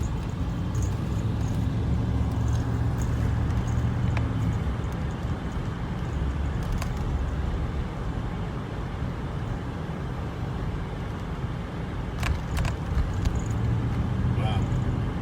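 A restored Rolls-Royce Corniche cruises on a road test, its low, smooth engine and tyre rumble steady and quiet throughout, with people talking over it now and then.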